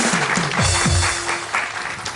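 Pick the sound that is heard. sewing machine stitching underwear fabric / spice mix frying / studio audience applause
studio audience applause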